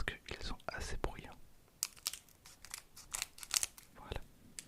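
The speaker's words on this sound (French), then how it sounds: "Je vais prendre la paire de ciseaux parce qu'ils sont assez bruyants." Scissors snip and crunch through the crinkly foil wrapper of a Dragon Ball trading card pack up close, a quick series of sharp cuts and rustles with soft breathy sounds between them.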